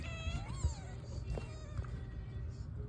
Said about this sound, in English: Oh, they're meowing.